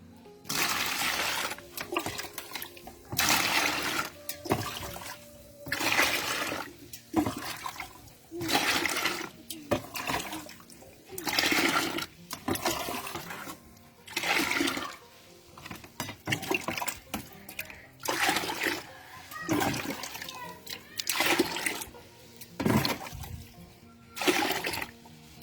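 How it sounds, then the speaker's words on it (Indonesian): Water poured and stirred into homemade organic urea fertilizer at a ten-to-one dilution, heard as repeated bursts of splashing and gurgling liquid, loud and close, with short pauses between pours. "saya akan campur dengan 10 bagian air ya"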